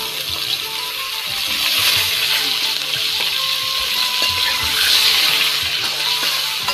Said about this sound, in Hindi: देखिए आलू फ्राई हो गया